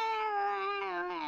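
A cat lets out a single drawn-out, wavering wail that sounds much like a crying child. The cry is close and steady with no speech over it, and it fades slightly toward the end.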